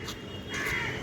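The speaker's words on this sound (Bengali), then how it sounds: "শালিক পাখি" A common myna calls once in a harsh, raspy burst over steady background hiss, brief and fairly close, with no voices.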